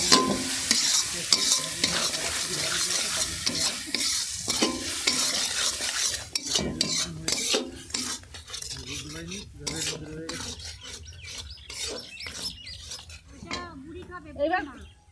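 Spice masala sizzles and fries in a pan while a utensil stirs it repeatedly, with scraping and clinking against the pan throughout; a voice speaks softly in the background.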